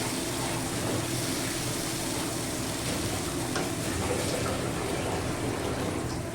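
Soybean kofta curry masala being sautéed in a pan gives a steady, dense sizzle with faint stirring underneath, continuous and close throughout with no voices.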